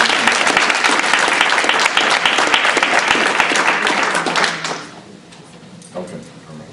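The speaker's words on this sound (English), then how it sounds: "So let's give all a round of applause." A school board meeting audience gives a loud round of applause for student competition participants; the dense clapping runs for several seconds, then fades out quickly, leaving a quiet room with a brief soft knock.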